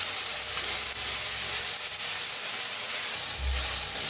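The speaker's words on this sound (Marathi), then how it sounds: "थोडंसं तेल ओतले, घेतलेली मटकी ओतू ह्याच्यात। मटकी भाजून घेऊया हलवून।" Moth bean sprouts (matki) roast in a little oil in a kadai with a soft, steady hiss and faint sizzle, a brief low thump near the end.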